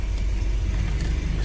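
A 35-year-old Volvo 740 GL engine runs with a steady, close mechanical hum and low droning rumble, unchanging throughout, with no voices.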